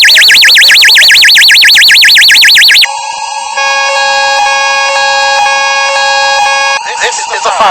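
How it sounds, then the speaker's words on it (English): A building fire alarm going off at a lift company's headquarters: a loud, fast-warbling electronic siren abruptly switches to steady, piercing sustained tones with brief pulses, harsh and close. "This is a fire alarm."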